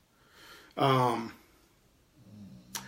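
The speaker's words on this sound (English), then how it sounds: "if you hear Maestro snoring, that's what he does all day" A dog snoring nearby, one loud rasping snore followed by a softer rumbling breath and a brief snort at the end, with quiet room background.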